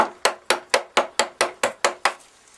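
Wooden mallet striking a chisel while halving a tee joint in wood, nine sharp, evenly spaced knocks about a quarter second apart, loud and close with no talk.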